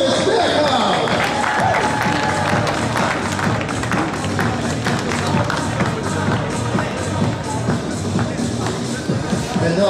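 A large crowd applauds and cheers steadily throughout as beach volleyball players in black, from the Netherlands, are introduced at a CEV Queen & King of the Court playoff match, with dense clapping under a loud arena mix.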